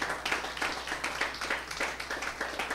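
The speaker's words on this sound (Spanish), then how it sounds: "si le va a dar aplausos al Señor, déselo fuerte" A church congregation claps to the Lord in rhythmic unison, steady beats about every quarter second, heard at a distance and fairly quiet under a faint room background.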